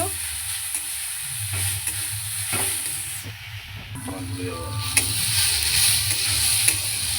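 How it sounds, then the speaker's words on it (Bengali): Food sizzling and frying in a pan, a steady broadband hiss running throughout with a low hum beneath and occasional clinks of stirring, moderately loud and close. "এটা ভাজা হচ্ছে।"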